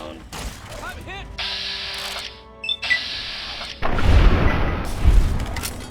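Gunfire and explosions in Fallout: Tale of Two Wastelands, with bursts of shots, a heavy boom and a dense, loud stretch of firing near the end, mixed with game effects and voices.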